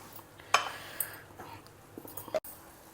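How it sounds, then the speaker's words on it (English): Spoon mixing a creamy cashew, saunf and coconut paste into a pot of vegetable gravy, with a few sharp metallic clinks and scrapes against the vessel between quieter stirring, close and fairly soft. "mix everything well together"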